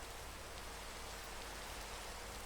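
Steady rain pours down in the Minecraft video game at night, a constant broadband hiss with fine droplet patter that fills the whole stretch evenly, moderately loud and alone with no voices.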